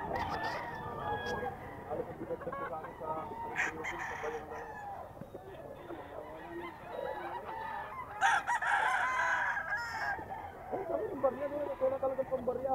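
Bulik gamefowl roosters at a market sale, several crowing bursts and clucks at close to moderate distance, with people talking over them.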